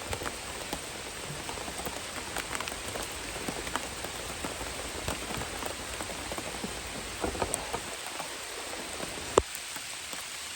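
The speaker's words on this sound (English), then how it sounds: "Absolutely chucking it down" Heavy rain pours down outdoors on a farm with sheep, a dense continuous patter of drops hitting surfaces, with a few louder nearby splats and no talking.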